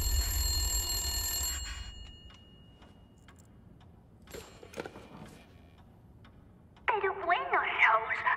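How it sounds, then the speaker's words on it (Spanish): A telephone rings inside a Resident Evil Village game scene: a loud, steady metallic ring with sustained tones opens and fades after about two seconds, followed by quiet ambience and scattered clicks before a burst of other game sound. "¿Quién llama al teléfono?"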